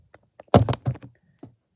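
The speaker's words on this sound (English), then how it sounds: "It clicks because it's going in and out of low power mode." A Microbit board on a homemade bike light clicks as it switches in and out of low power mode. A handful of sharp, close clicks and thunks come at irregular intervals against near silence.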